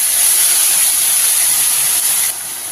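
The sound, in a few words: ground onion paste added to hot oil, sizzling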